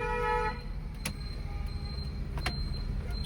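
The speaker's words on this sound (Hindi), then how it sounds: "अपना लेफ्ट दबा के लॉन्ग हॉर्न पुश करो" A car horn honks once during a driving lesson, a short steady blare at the start, followed by faint clicks and engine rumble.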